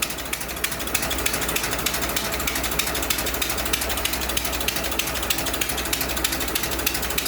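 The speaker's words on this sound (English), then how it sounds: "100-year-old engine." A 100-year-old 1924 Dodge engine runs with a fast, even mechanical clatter, a dense rattling ticking like a ratchet, steady and close throughout.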